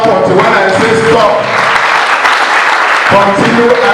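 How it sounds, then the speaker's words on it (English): A crowd applauding steadily at the opening of a security workshop, loud continuous clapping filling the room while a voice speaks over it. "Continue to clap until when I say stop."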